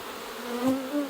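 Bees buzz around a hive in a brief, close hum with a couple of rising and falling tones as individual insects pass.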